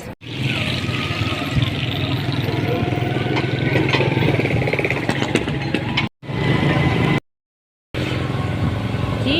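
A motorcycle ride on a sunny day, the engine droning steadily with wind rumble and road noise up close, briefly cutting out twice; a person talks over it.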